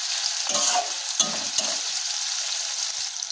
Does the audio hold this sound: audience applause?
no